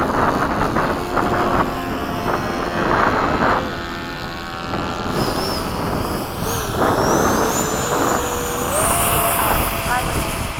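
RC model jets, an FMS 80mm Hawk and a Freewing 70mm F-16, doing touch-and-goes: steady loud electric ducted-fan whine that rises and falls in pitch as they pass, with wind noise and voices talking over it.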